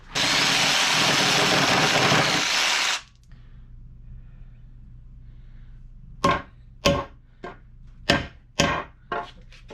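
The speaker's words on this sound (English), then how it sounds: "I'll use my jigsaw for that." Jigsaw cutting through an old iron mattock, a loud steady buzzing saw for about three seconds, then quiet followed by a series of sharp metallic clanks and knocks.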